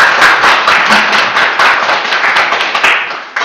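A teachers' briefing audience claps to welcome a visiting professor: dense, lively applause of many hands, close and loud, holding steady before thinning out at the end.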